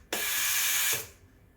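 Steam wand auto purge on a Breville Oracle BES980 espresso machine: one loud, close burst of hissing steam lasting almost a second, stopping sharply and leaving quiet room tone.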